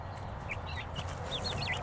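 Young chickens of the same age and breed cluck and peep in their outdoor run, a steady run of short, close chirping calls over a low background hum.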